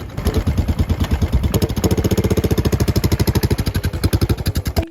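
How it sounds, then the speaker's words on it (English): A single-cylinder Royal Enfield motorcycle engine thumps steadily at idle, each beat distinct and close, with a brief rev midway and a slight rise near the end. "For decades, Royal Enfield meant one thing, the single-cylinder Thump."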